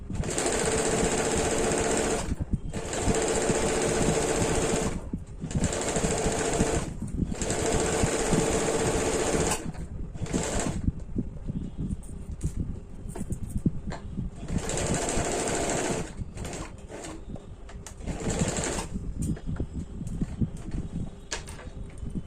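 A sewing machine stitches a seam on a deep-neck kurti in bursts of steady high-pitched whirring lasting a few seconds each. Short pauses separate the runs, and the later bursts are briefer and more irregular.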